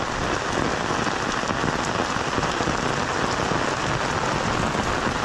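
Heavy monsoon rain pours steadily and loudly onto a surface in Konkan, a dense continuous hiss with no pauses and no voices.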